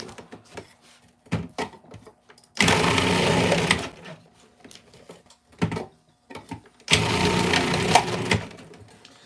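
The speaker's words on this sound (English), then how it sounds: "I'm processing my food in my food processor" A food processor whirs in two loud bursts of chopping and blending, each lasting about a second and a half. Scattered clicks and knocks fill the quieter gaps between them.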